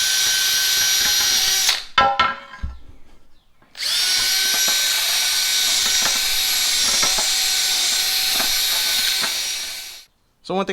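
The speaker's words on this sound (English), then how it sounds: "So I just took the old drill, just like so, and just cleaned it up." A handheld power drill used to clean globs of RTV sealant off bolts from a 2015 Ram rear differential pan, whining loudly in long bursts broken by brief stops, with scraping clicks in between.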